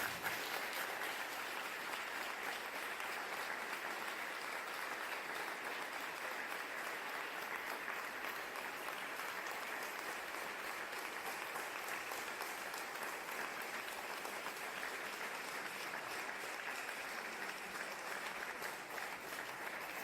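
Audience applause after a talk on popular education, a long, even stretch of many hands clapping at a distance, steady and unbroken for about twenty seconds.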